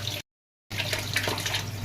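A newly fitted water tap with weak flow gives a steady, soft trickling hiss, briefly cut by a short gap of silence before the trickle resumes.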